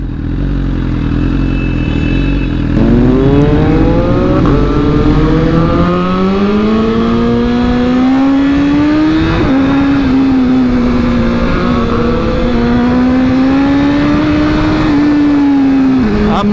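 A BMW S1000RR motorcycle is ridden with its engine loud and close. The pitch climbs through gears, surging and dropping repeatedly as the bike accelerates, over steady wind rush.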